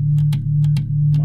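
A sampled bass from a music sampler drones loud and deep, with a few quick clicky attacks riding on top in a short, irregular pattern.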